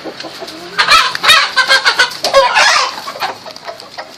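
A chicken clucks and squawks in a rapid, agitated flurry, close and fairly loud, with scuffling noises around it.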